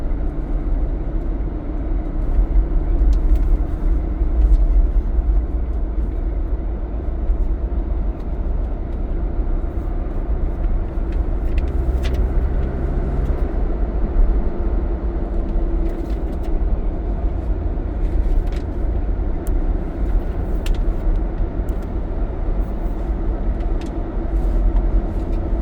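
Steady low rumble of a car driving along a road, heard from inside the cabin, with constant engine and tyre noise throughout and faint small clicks over the drone.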